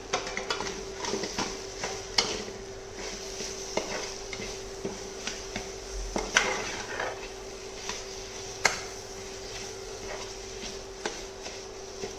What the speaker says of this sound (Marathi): सर्वच व्यवस्थित आता मिक्स करायचं आहे।